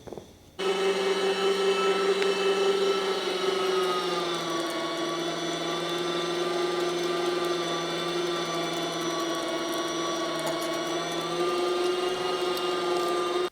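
Meat grinder working through cubed wild hog meat, a steady loud motor whine with a droning hum that starts abruptly and runs continuously, with no talking.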